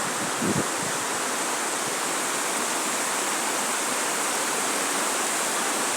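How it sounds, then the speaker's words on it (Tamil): A waterfall's continuous broadband rush of falling water, loud and unbroken, with no voices over it. "பாருங்கள், இந்த பக்கமாக கீழே தான் அருவி இருக்குது நண்பர்களே."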